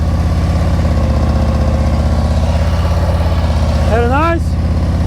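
A motorcycle engine idles and putters at a steady low rhythm during slow-speed riding practice, loud and close, with a short rising squeal near the end.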